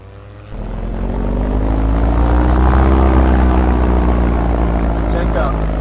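A small propeller airplane's engine running, loud and close, swelling up after a brief quieter start into a steady, throbbing drone that holds to the end.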